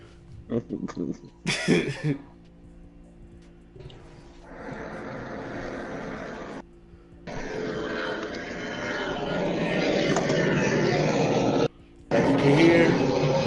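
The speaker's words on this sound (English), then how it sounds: "sound effect for the up and up is the jet taking off" Jet taking off, used as a sound effect: after a few brief voice and cough-like bursts, a loud broadband roar swells in and holds steady, briefly cutting out before resuming.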